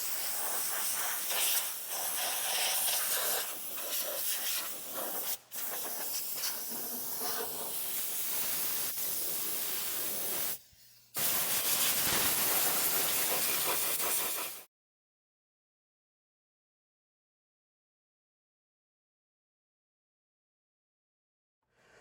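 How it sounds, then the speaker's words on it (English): Compressed air blasts from an air chuck fed by a compressor, blowing loose grit out of a car interior onto the carpet: a loud, steady hiss with two brief breaks, then cutting off into silence. "an air chuck, hooked up to a compressor and blow all of the loose bits down onto the carpet"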